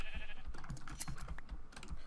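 Short Minecraft sheep bleats, two or three in quick succession, mixed with clicky keyboard tapping and faint background sounds.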